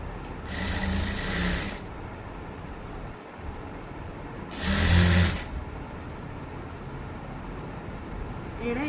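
Sewing machine stitching a straight line along the hem of a nightie, two short bursts of fast, even whirring, close and clear, separated by a quiet stretch with faint room noise.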